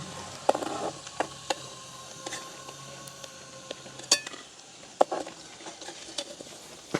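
Small shrimp fry in a pan in a village kitchen, a low sizzle broken by sharp clinks and scrapes of a metal spoon stirring against the pan at irregular intervals.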